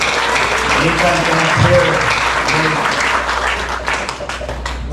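Wedding guests applaud newlyweds Nathaniel Clay and Charissa Morgan with loud, continuous clapping from a crowd, while a voice speaks briefly over it and the clapping thins toward the end.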